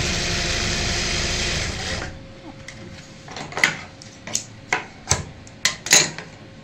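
A sewing machine stitches piping onto a fabric hanging organizer made from leftover cloth, running steadily and loudly for about two seconds, then stopping into a series of sharp knocks and clicks from handling the machine and fabric.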